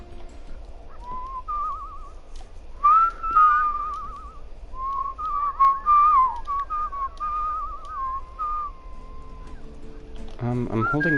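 A character whistles in the video game Where the Water Tastes Like Wine, a series of clear melodic whistled phrases with trills and slides, fairly close over a quiet background, with a brief noisy burst at the end.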